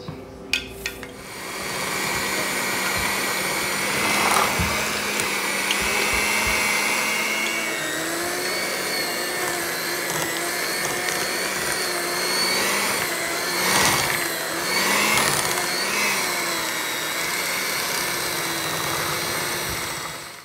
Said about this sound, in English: next we're gonna go ahead and blend the three ingredients up